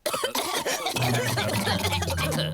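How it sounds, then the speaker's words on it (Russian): Cartoon characters from Peppa Pig cough in a short run of repeated, throaty hacks and rasping bursts, loud and close. "все взрослые заразились кашлем от Педро"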